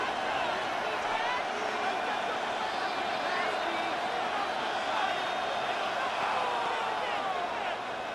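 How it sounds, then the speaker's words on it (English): A stadium crowd in a Madden NFL 26 game between the Chicago Bears and Buffalo Bills keeps up a steady, loud roar of cheering and noise with no letup. "This crowd turning up the decibel level."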